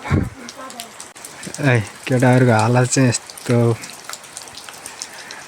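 Heavy rain pours steadily outdoors in a village, a continuous hiss running under a voice throughout.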